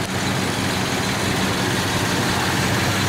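A 1970 Pontiac Bonneville engine idles steadily under the raised hood, a continuous broadband rumble heard close to the camera with no talking.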